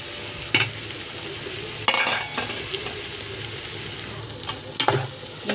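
Fried ivy gourd pieces crackle in a hot pan for a gourd curry while a spoon stirs them, giving a few sharp scrapes and knocks over a steady close sizzle, with no voices.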